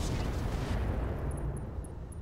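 Heavy mech weapons fire in the game Roguetech, a loud booming volley at the start that rumbles and decays, with faint sharp clicks trailing after.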